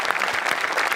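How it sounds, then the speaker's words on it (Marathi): An audience claps loudly and continuously through a stage comedy show, a dense burst of applause with no talking over it. "यासाठी जोरदार टाळ्या झाल्या पाहिजे."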